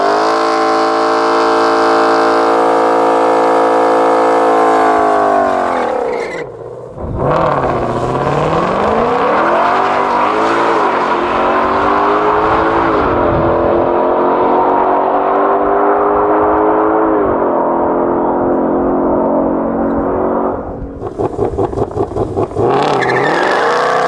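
A 2020 Ford Mustang Shelby GT500 engine, 760 horsepower, revs hard and loud up close, a rich harmonic roar that swoops down and climbs again, briefly drops near idle, then surges once more.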